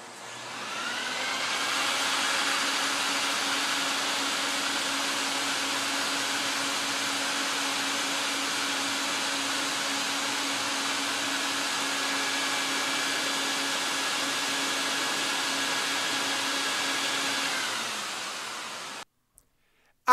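An XpetPee rug cleaning machine vacuum-extracts urine from an oriental carpet, a steady loud whine and rushing suction that runs unbroken for about eighteen seconds before cutting off abruptly, with no voices.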